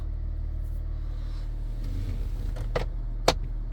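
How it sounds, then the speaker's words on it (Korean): A 2017 Kia Mohave SUV idles with a steady low rumble heard from inside the cabin, while a few faint clicks and one sharper knock stand out near the end. "현재 시동이 걸려 있고요"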